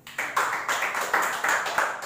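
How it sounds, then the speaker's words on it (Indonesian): A church congregation claps their hands in a loose, rhythmic pattern of roughly steady beats, moderately loud and close, with no talk over it. "Tepuk tangan"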